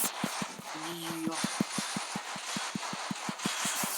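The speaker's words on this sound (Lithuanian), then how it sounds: "Šitas traktorius lengvai užsikūrė" A tractor engine in a modded farming game idles right after an easy start, giving a close, steady, rhythmic chugging thump, with brief talk over it.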